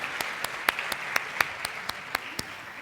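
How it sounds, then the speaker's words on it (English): A few people clap for speakers at a women's forum in Doha, Qatar, with sharp, distinct claps repeating in a slow, even rhythm over a faint room hum. "another round of applause for our welcoming address and keynote speakers"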